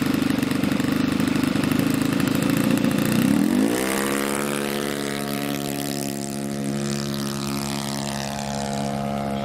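A Ben Buckle Super Buccaneer RC model plane engine on its maiden flight drones steadily, then its pitch drops and settles into a lower, steady hum at half throttle as the aircraft flies off.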